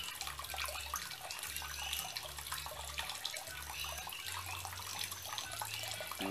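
Water runs steadily from a tap, a faint continuous hiss and splash with low background hum, no voices.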